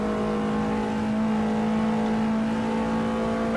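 TCR touring car engine held at full throttle down the Park Straight at Cadwell Park, a loud, steady high-pitched drone heard from on board with no pauses and no voices.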